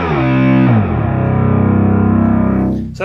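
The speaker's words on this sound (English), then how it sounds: "So that's the mono glide." Memorymoog analog synthesizer played in mono mode with glide, one loud sustained buzzy note sliding down in pitch, then holding steady with a slight pulsing before cutting off.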